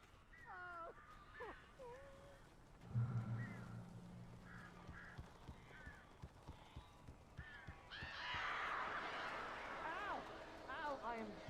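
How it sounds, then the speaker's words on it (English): Strange, agitated birds fluttering and calling indoors in the game Alan Wake Remastered, with chirps and squawks scattered around a low rumble, then a louder burst of overlapping shrill cries near the end. "These birds are weird."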